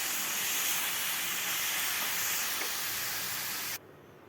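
Cabbage frying in a pan, a loud, steady sizzling hiss that runs unbroken and then abruptly drops away near the end, with no talking.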